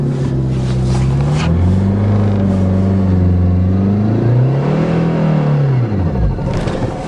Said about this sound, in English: other wheel was spinning